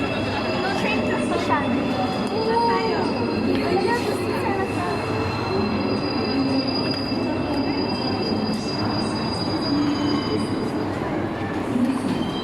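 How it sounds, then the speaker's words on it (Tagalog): Train to Busan, South Korea, with a steady rumble of rolling wagons and occasional wheel squeal continuing throughout, while people talk quietly in the background. "train to Busan"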